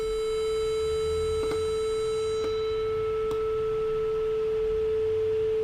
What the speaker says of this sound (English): Voila! Sine wave.